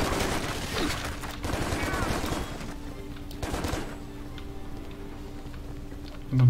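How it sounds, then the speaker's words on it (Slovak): Gunfire in the video game Stranglehold: several dense bursts of rapid shots over the first few seconds, then quieter background game sounds with a faint tonal hum. "Ani som nevedel, že som strieľal"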